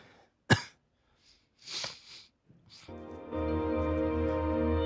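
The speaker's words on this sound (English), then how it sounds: "This cough won't leave me alone, dude." A person coughs sharply once, then gives a few rougher throat-clearing coughs, close and fairly loud, before a steady droning background sound takes over.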